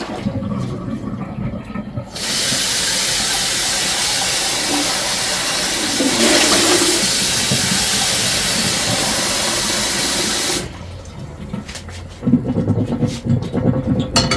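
Cold tap water gushes steadily into a container in a home kitchen during keto chocolate muffin baking, a loud continuous rushing hiss that starts abruptly, swells briefly midway, then cuts off, leaving quieter room noise.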